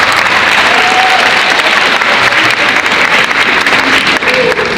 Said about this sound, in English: Round of applause to all of you and our participants.